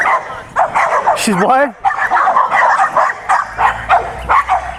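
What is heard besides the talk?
dog barking and yipping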